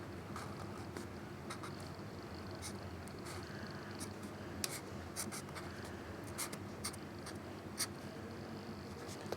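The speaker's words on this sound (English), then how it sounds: "So I'm gonna write something." A UV light magic pen writes on a surface, giving a soft, quiet scratching and scribbling that goes on steadily against a faint background hiss.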